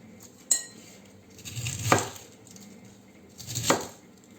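A knife cuts through food on a board: a quick tap, then two slower, crunching slices spaced a couple of seconds apart, close and fairly quiet.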